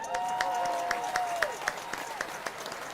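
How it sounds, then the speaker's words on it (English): An audience applauds with scattered, uneven hand claps over a soft background hum, a few sharper claps standing out. "Give her another hand clap"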